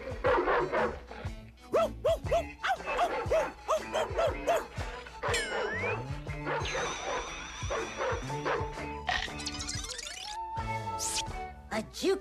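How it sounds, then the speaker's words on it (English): A cartoon dog in a Pac-Man cartoon yaps and barks in quick repeated bursts, close and loud, over busy background music and sound effects. "Woof, woof, woof, woof."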